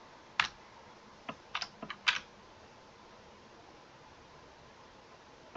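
A few quick keystrokes on a computer keyboard click faintly over a quiet background hiss, in a short burst of typing followed by silence.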